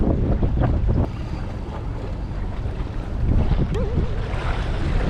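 Wind gusts buffet the microphone in rough, uneven bursts while halibut fishing from shore at Long Beach, California, with a low roar and splashy water noise beneath.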